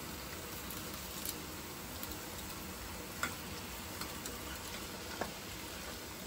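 Green chillies and curry leaves fry in hot oil for an egg curry, giving a constant, dense crackling sizzle. Faint ticks and light clinks of the utensil pop up now and then.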